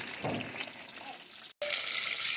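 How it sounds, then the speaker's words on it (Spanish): Small fish called lisetas sizzling in hot oil in a pan for a weekend breakfast near waterfalls, a steady close bubbling hiss that grows brighter and louder after a brief gap. "Y aquí ya se están friendo los otros pescaditos, las otras lisetas"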